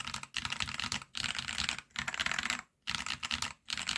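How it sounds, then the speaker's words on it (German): Rapid typing on a Royal Kludge RK68 keyboard with tactile switches gives dense, crisp key clatter in three or four bursts separated by short pauses, close and clear with no voice. "einfach mal hier auf die Tastatur tippt, um einfach nur das Geräusch zu hören"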